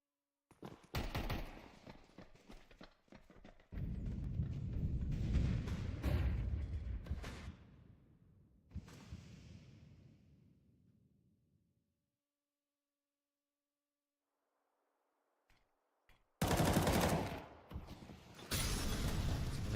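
Bursts of gunfire in Counter-Strike 2, loud dense rapid shots in clusters at the start and again near the end, separated by a fading tail and a long near-silent gap.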